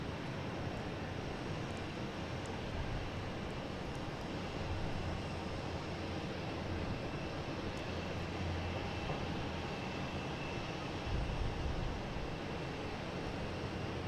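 A fixed-wing aircraft roars steadily at Boston Logan International Airport, a broad, continuous engine rumble with a wind-blown hiss and no speech, heard from outdoors for the whole stretch.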